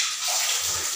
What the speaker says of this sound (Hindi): यहाँ पे गुप्त रूप से धारा निकल रही है, पता नहीं कहाँ से पहाड़ के बीच से आ रही है